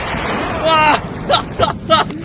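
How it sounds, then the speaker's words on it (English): Distant gunfire and explosions in Ukraine war footage, several dull booms and bursts spaced about a half second apart over a constant noisy background, with voices talking. "You hear a little bit of gunfire in the distance?"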